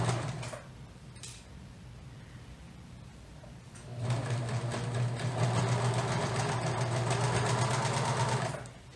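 A sewing machine stitches elastic onto underwear. After a few quiet seconds with brief handling, it starts up and runs in a steady, rapid mechanical whir for about five seconds, then stops.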